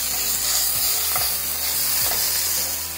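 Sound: onions and ginger garlic paste sautéing in a pan

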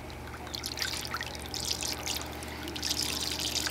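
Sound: water flowing through fine gold recovery bowl

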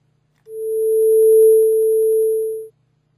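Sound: MaxMSP sine tone with attack-decay-sustain-release amplitude envelope

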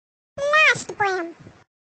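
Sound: cat meowing

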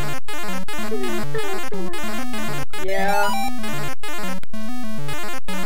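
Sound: Mario walking sound, Donkey Kong video game on Atari 7800

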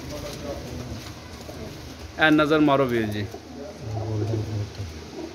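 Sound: pigeons cooing

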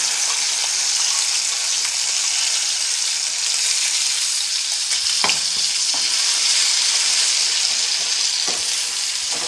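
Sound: ground jackfruit pulp added to frying raisins and cashews, stirred

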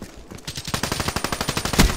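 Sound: Weevil gun firing in video game Call of Duty Black Ops 3

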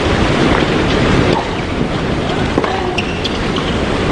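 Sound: strong wind blowing at outdoor tennis match

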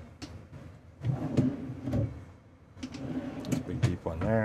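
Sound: drawer sliding on ball bearing slides

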